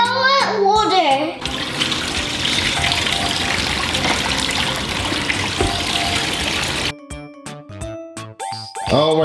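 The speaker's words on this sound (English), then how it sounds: "Time to fill it with water." Water gushes steadily from a tap into a Lightning McQueen Beach Blast toy for several seconds, a broad hissing pour framed by a child's and an adult's voices talking before and after.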